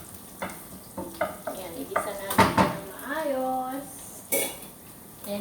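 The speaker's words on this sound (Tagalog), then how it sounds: "nag-start na akong maggisa ng bawang sibuyas para sa pansit" Garlic and onion being sautéed in a pan for Filipino pancit, with a steady sizzle under repeated metal clinks and scrapes of a utensil stirring, close by, and brief bursts of frying noise.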